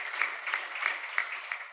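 Scattered clapping greets the sponsors at a live smart-building conference session, a thin, brief patter of hands with a few sharper claps standing out.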